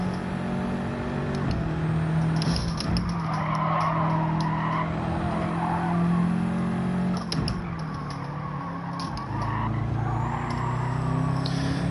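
Race car engine in Gran Turismo 7 during a manufacturer online race, a loud sustained drone with rising revs and tyre squeal, shifting pitch as the car pushes through corners.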